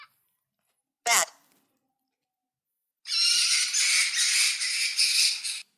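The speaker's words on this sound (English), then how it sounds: "Bat." Bat calls as a dense burst of high, chattering squeaks lasting nearly three seconds, close and fairly loud, following a single spoken word.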